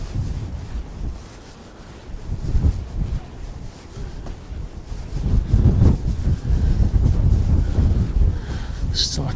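Cold, biting coastal wind at West Bay in Dorset buffets the microphone in loud, rumbling gusts that swell and fade, with surf faintly beneath.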